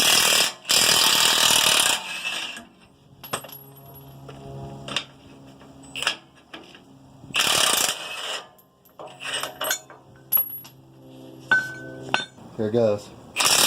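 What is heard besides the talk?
removing truck leaf spring U-bolts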